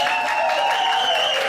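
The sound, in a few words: audience applause at dance showcase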